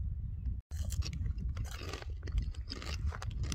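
Crisps being chewed outdoors during a cycling trip in Scotland, close crunchy bites and mastication with continuous rustle and wind-like noise, no talking.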